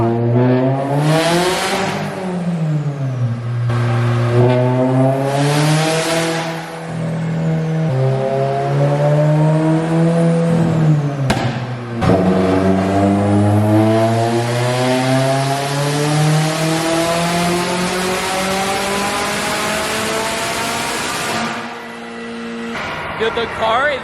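Turbocharged Subaru BRZ making over 500 horsepower, revving hard on a dyno: loud, sustained engine roar that rises and falls through repeated rev sweeps, with a sharp pop near the middle, under excited voices.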